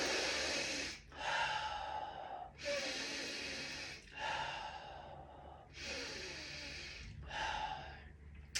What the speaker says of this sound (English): And now 3 breaths in through the nose,